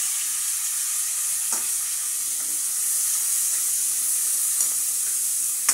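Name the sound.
sautéing tomato and onion for mungo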